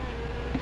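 Wasps buzz in a brief, continuous, low droning hum, close and steady with a slight rise near the end.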